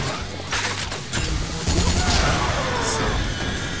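Gunshots in the video game Yakuza: Dead Souls, loud continuous volleys of overlapping shots and crashes filling the whole moment.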